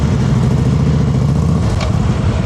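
A motorcycle creeps along slowly under clutch control during a slow-ride exercise, a loud close engine putter with a low, even throb that stays steady and throttled back throughout.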